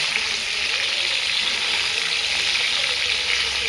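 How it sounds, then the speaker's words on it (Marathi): Steady, dense sizzling of paneer frying in hot oil over high heat, loud and continuous throughout with no voices. "किती छान तळलं गेलं बघा हे जरा कुरकुरीत होईपर्यंत मस्त तळायचे"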